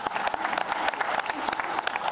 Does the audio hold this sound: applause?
yes